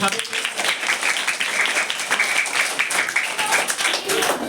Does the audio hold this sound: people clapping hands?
yes